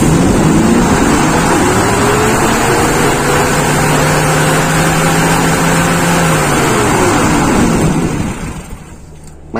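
A motorcycle engine with a long-starting fault when hot and a fuel-delivery problem is held at high throttle, a loud steady drone that climbs, holds, and then drops away near the end.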